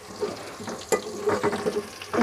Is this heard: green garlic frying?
yes